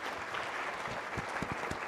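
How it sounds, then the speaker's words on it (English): An audience at an alumni banquet claps, a brief burst of steady applause from a room of people heard at moderate distance, with a few sharper individual claps standing out. "So let's hear a round of applause for them."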